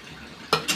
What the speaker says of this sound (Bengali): নেড়ে নেই, দেখি কি খবর।